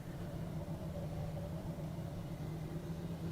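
Modded race car engine in Assetto Corsa, a steady low droning rumble held at constant revs, fairly quiet and even from start to finish, with no voices.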